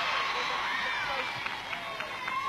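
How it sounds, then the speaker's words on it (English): A studio audience at a 1981 televised It's a Knockout contest in Dunfermline keeps up a steady wash of applause and crowd noise, with a few sharper claps and cheers standing out near the end. "Nice round of applause for Kirsty Miller."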